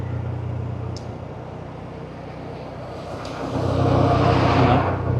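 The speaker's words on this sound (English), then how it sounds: "Oh yeah, big truck coming, see?" A big truck and other vehicles overtake on a road in Vietnam, heard from a motorbike as a steady low engine drone that swells louder and closer toward the end as the truck passes.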